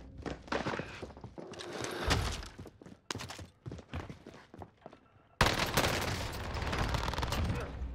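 A PPSh-41 submachine gun fires in Warzone Pacific on the Caldera map, with rapid bursts of automatic gunfire broken by short pauses and then one long, loud sustained volley.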